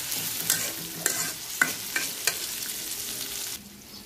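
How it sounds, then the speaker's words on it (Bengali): Onions frying in oil for a rohu fish curry give a steady sizzle, broken by several sharp scraping stirs of a spatula, before the sizzle drops quieter near the end. "এখন পেঁয়াজটা ভালো করে ভাজবো।"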